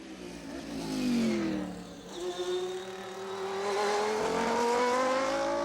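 A Lola prototype race car in Olive Garden livery screams past at the Le Mans 24 Hours, its loud engine note rising and sweeping through gear changes, close and sustained with no talk.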